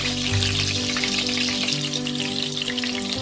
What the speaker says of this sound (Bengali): পেঁয়াজটা আমি 2 মিনিটের মতো একটু নাড়াচাড়া করে নিয়েছি